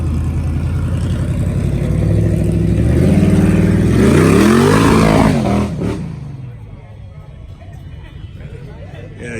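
A Mopar car engine revs hard through a side-exit muffler exhaust at a Mopar festival, building to a loud peak and then dropping away. Crowd talk carries on underneath.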